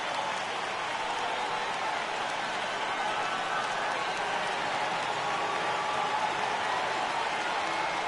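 More than 37,000 fans in a baseball stadium rise and cheer as a game nears its final out, a broad, sustained roar with applause that stays loud and even throughout.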